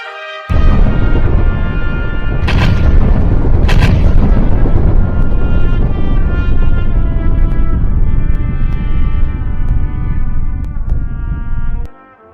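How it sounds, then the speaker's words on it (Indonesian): Wartime bombing from an air raid over Jogja and the Maguwo airfield fills the air as a loud, continuous rumbling roar, punctuated early by two sharp, cracking blasts, then holding steady before cutting off abruptly. "Dentuman suara bombardir menggema di tanah Jogja"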